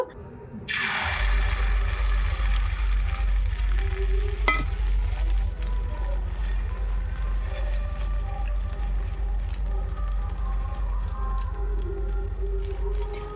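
Beaten egg hits hot mustard oil for an omelette and breaks into a sudden loud sizzle. Steady close frying follows, with a faint low hum beneath and a brief clink partway through.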